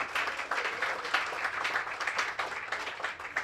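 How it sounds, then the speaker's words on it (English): Applause from an audience at a youth leadership breakfast event, steady dense clapping filling the room throughout without a break, moderately loud and continuous. "Let's give both of them a round of applause."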